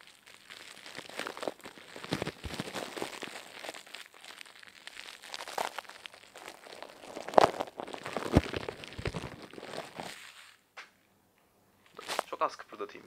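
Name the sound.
plastic bag crinkled in hand as foley for crackling embers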